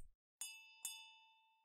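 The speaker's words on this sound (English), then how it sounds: "She points to a small service bell on the counter." A small service bell on a counter in the horror video game Dr. Smiley's Funhouse is struck twice in quick succession, each bright metallic ding ringing out and decaying slowly in otherwise quiet surroundings.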